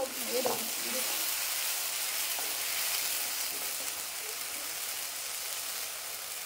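Ginger and garlic frying in a pan at home, a continuous dense sizzle with a few soft stirring knocks near the start, steady and close throughout.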